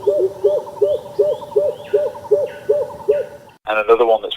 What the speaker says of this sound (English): There's a bird called a greater cuckoo.